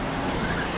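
A police Jeep in the video game The Crew 2, an 800-horsepower Carabinieri vehicle, pulls a handbrake turn, a loud continuous roar of engine and tire noise filling the short moment.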